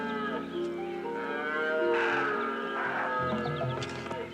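A great stag bellows during the mating season in a forest, giving deep, drawn-out, harmonic calls that are loud and close, with overlapping groans.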